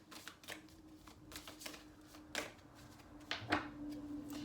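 Tarot cards being drawn and shuffled during a weekly reading, soft papery riffles and flicks in a few short bursts with quiet gaps, close and faint.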